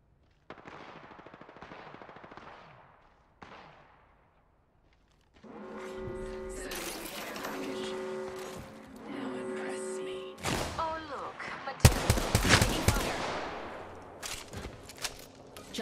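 Bursts of rapid automatic gunfire from an Apex Legends arena match, loud and close, with sharper heavy shots near the end, broken by short quiet gaps and mixed with a game character's voice lines.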